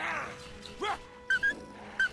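Puppy in a video game giving short yips and a whimper, several quick high barks over a low game backdrop, fairly close and clear.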